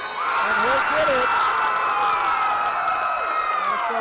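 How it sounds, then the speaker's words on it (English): A tournament crowd at a 1A divisional wrestling event cheers a pin, a loud sustained roar with whoops and shouts from the stands, under a commentator's voice. "And so the crowd loves that."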